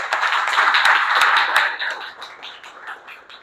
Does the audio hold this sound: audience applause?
yes